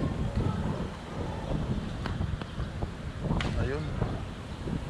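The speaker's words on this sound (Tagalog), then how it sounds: "Lumakas na ang hangin." Strong wind gusting outdoors while fishing near a lake with water lilies, as a continuous rumbling buffet against the microphone, with someone talking briefly over it.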